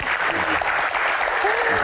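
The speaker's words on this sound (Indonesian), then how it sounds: "langsung saja kita berikan tepuk tangan untuk aktor utama kita malam ini" Dense, loud audience applause fills a hall at an evening disaster-management Q&A as the main guest is welcomed, a continuous even roar of many clapping hands heard close.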